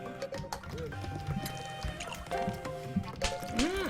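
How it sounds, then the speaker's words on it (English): Splashing, dripping and squishy liquid effects from the dishwashing task in the cooking game Cook, Serve, Delicious!, busy and continuous with bright bubbly pops, layered over game music tones. "Dishwashing."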